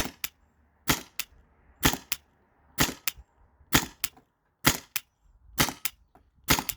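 A Byrna TCR launcher fitted with a TiPX remote line mod fires repeatedly, each sharp, loud crack coming at a steady pace of roughly one per second, with short gaps of near quiet between shots.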